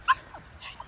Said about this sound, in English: Do you hear this dog? She's so freaking excited